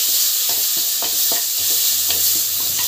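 Ginger garlic paste sautés in a hot pan with a steady bright sizzle, broken by regular scraping stirs of a spatula roughly every quarter second, close and fairly loud with no talking.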